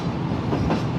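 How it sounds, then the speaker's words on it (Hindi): The Shalimar Express passenger train rolls along the rails in Pakistan as it approaches Toba Tek Singh station, a loud, steady rumble and rattle heard from inside the carriage with no talk. "ट्रेन हमारी टोबा टैक्सी रेलवे स्टेशन पे अप्रोच बना रही है।"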